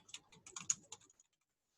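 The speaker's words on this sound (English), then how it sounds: "I'm just typing any random text here" Quick, light keystrokes on a computer keyboard while text is entered into a Word document, a short close burst of uneven clicks that stops after about a second, leaving quiet.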